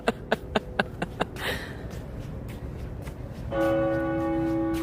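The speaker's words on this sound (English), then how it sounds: "The bells are going off" Church bells ringing in Toronto at night, a quick run of bright strikes followed by a pause and then a loud sustained resonant toll that lingers over distant city hum.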